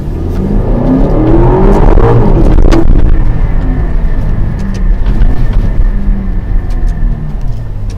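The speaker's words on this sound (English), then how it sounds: "What an engine. A 4-liter twin turbo V8." A 2021 Aston Martin DBX with a 4-liter twin-turbo V8 revs hard while heading downhill, its engine note rising sharply then settling into a throaty drone, loud and close.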